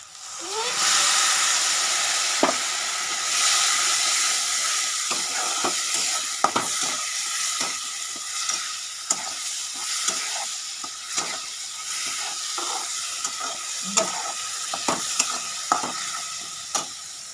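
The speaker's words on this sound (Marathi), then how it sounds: "आता ह्याच्यामध्ये आपण हिरवा वाटण केलं होतं ते टाकू बघा हे वाटण केलेले हिरवं हे आपण त्यामध्ये टाकू" Green masala paste sizzles loudly in a pan of fried onions for kaju curry, a steady hissing fry broken by frequent stirring clinks and scrapes, close up and with no talking.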